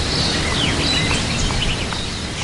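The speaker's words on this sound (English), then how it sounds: "Many people like the sound of birds." Birds sing and chirp faintly in short scattered calls over a steady, loud background hiss.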